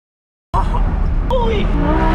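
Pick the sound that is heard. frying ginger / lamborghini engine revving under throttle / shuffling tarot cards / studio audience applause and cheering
lamborghini engine revving under throttle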